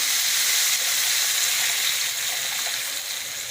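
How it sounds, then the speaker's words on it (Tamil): Steady bubbling and hissing of tamarind liquid with curry leaves, dried chillies and turmeric boiling hard in a pan, continuous and close, with a slight softening toward the end. "இது நல்லா கொதிச்சுனே இருக்கட்டும்"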